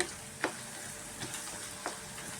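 Onions and black pepper frying in a pan for tamarind rice, a soft steady sizzle with a few brief scraping stirs of a spatula.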